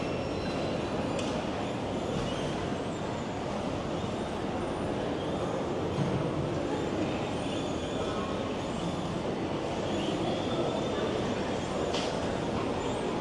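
A steady, dense rumble fills a Standard Gauge Railway (SGR) train station in Tanzania as passengers board and alight, an unbroken wash of train and crowd noise with no clear voices standing out.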